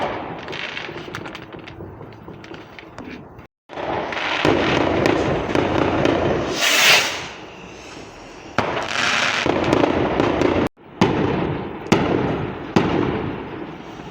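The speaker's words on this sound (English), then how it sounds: "Very loud fireworks and then massive." Loud fireworks burst on Bonfire Night in a rapid crackling series, sharp bangs and popping volleys separated by two brief silent gaps, some large booming blasts among smaller cracks, with no voices.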